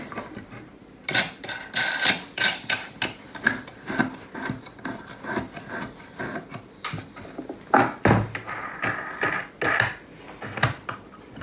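Wooden mechanism creaks and rasps while a book press is tightened on a paperback being mended for gluing. The sound is a series of uneven gritty scrapes and clicks, close up and with no voices.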